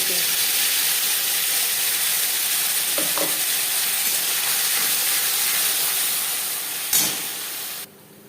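Tomato paste sizzles loudly in hot refined oil with whole cumin seeds, a steady dense frying hiss with a few brief stirring scrapes, ending abruptly near the end.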